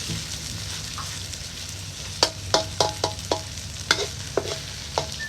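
Fish frying in hot oil with a steady close sizzle, broken by a series of sharp clinks and taps from a utensil against the pan at irregular intervals.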